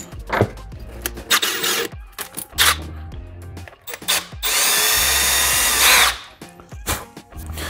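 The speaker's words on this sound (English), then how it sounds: "go ahead and drill a small hole right there at the end" Drill boring a small hole in the end of a wooden dowel, with short stop-start bursts and one steady whir of about a second, close and loud, mixed with handling clicks.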